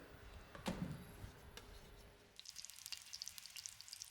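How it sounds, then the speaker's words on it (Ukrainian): Shallots fry in hot oil in a pan, a close sizzle with a sharp hiss and a thump near the start, then brighter rapid crackling and spitting that continues with no talk. "І зараз тут я буду обсмажувати нашу цибулю рібчасту."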